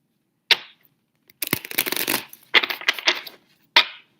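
Tarot cards are shuffled by hand in a few quick bursts: a short riffle, a longer papery flurry, then more snapping shuffles and a final flick, close and fairly loud with silence between.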